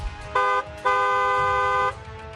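A car horn honks twice, a short toot followed by a longer sustained blast, fairly close and loud.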